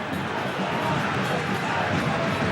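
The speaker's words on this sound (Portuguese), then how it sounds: "A torcida do Grêmio reclama demais" Grêmio football fans fill a stadium with a loud, continuous crowd roar of complaint, a dense wash of voices without clear breaks.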